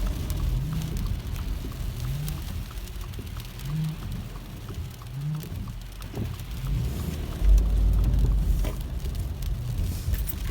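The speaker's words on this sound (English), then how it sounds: "now we're back to heavy rain" Heavy rain falls steadily after a spell of sleet, a continuous dense patter with a few low thumps and a brief louder gust near the end, with no voices.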